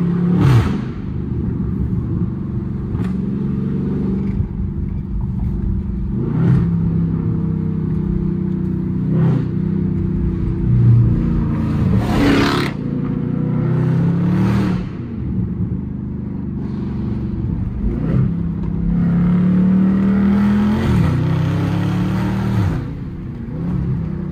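A catless Chrysler 300 SRT engine rumbles and revs, punctuated by sharp crackling pops from the exhaust that recur every couple of seconds.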